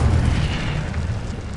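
The Incendio fire spell in Hogwarts Legacy bursts in a short, loud, booming blast of dense roaring noise that holds steady for a moment.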